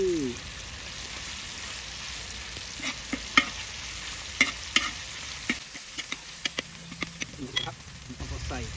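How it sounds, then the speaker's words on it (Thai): Pork pieces stir-fry in a pan for Shan noodles, a steady close sizzle broken by spatula scrapes and clicks against the pan. "ต่อไปก็ใส่ชิ้นหมูแล้วนะครับนี่"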